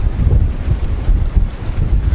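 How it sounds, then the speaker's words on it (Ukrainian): Strong wind buffets the microphone outdoors while a Husqvarna 135 chainsaw is being tested, in a constant low, roaring rumble that rises and falls in gusts, with no other clear sounds. "вітер дує ужасний"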